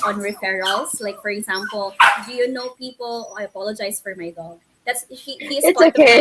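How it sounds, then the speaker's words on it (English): A pet dog barks and yips intermittently in the background during a podcast-style conversation, with the short barks mixed under steady speech and a louder burst near the end. "I apologize for my dog."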